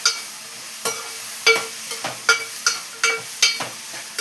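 Onions for sambar fry in a pan while a utensil stirs them. A faint sizzle runs underneath sharp scraping strokes that come about every half second, close and clear, with no talk.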